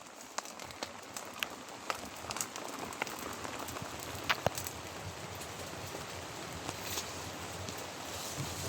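Steady rain falls as a continuous broad hiss, with scattered sharper drops tapping nearby throughout.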